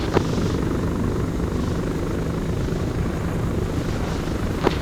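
A Chinook transport helicopter landing in Arma 3 gives a steady, loud rotor drone throughout, with a couple of brief sharp clicks near the start and end.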